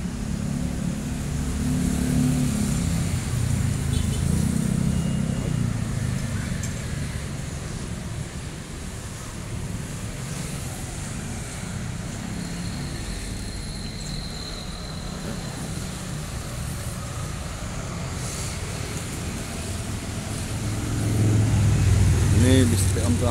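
A bus's Mercedes engine rumbles steadily at close range, with low droning that swells near the end as if revving, over outdoor background noise.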